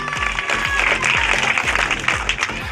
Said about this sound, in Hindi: ताली हो जाए, जोरदार ताली हो जाए।